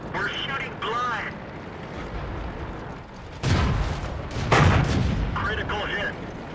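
Tank cannon blasts in the video game World of Tanks boom heavily twice in succession, loud and close, while a voice talks over the game sounds.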